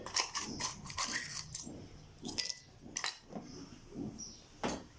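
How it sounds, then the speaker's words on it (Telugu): Ice cubes clatter into a glass of lemon and sugarcane juice in a series of sharp, irregular clinks and knocks, close and fairly loud, with brief pauses between drops. "తగినన్ని ఐస్ ముక్కలను వేసేసుకుందామండి"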